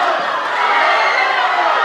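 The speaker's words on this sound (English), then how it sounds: "Crowd reacting to every shot." A boxing crowd at a Blow by Blow fight between Arvin Magramo and Joel Lino keeps up a dense, steady roar of voices and cheering, loud and continuous throughout with no break.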